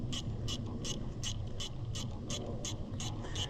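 A socket ratchet tightening cheap hose clamps on an Allis Chalmers 175 tractor's fuel system, giving about ten evenly spaced clicking bursts over a steady low engine-bay hum, fairly close and without talk.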